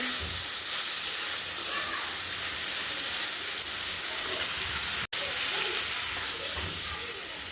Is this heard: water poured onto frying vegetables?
yes